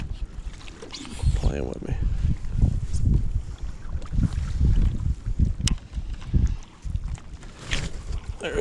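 Strong wind buffets the microphone on a lake while bass fishing from an inflatable kayak in early spring, loud gusty rumbling roars throughout, with someone talking briefly over it.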